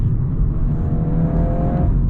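Volkswagen Golf R with a tuned EA888 engine revs up smoothly, a rising mechanical whine over a low exhaust rumble, heard from inside the moving car, then easing off.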